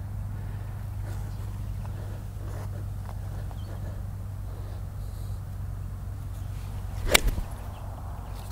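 A golf club strikes a ball on an outdoor practice range in a single sharp crack near the end, with a low steady wind rumble underneath.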